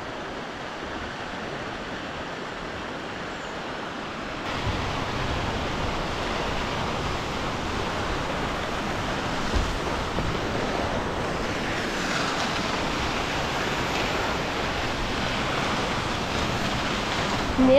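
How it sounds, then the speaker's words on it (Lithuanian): A narrow waterfall in Iceland, with modest flow between hexagonal basalt columns, gives off a constant broadband roar. The rushing is loud and even, rising slightly partway through, with no voices. "Tai tikrai toksai įdomesnis krioklys."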